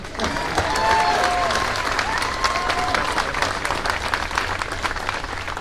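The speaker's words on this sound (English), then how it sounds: "He deserves a round of applause, too." Audience applause at a bill signing ceremony for an animal protection law, a dense sustained wash of clapping with a few whistles and faint voices in the crowd, steady and fairly loud throughout.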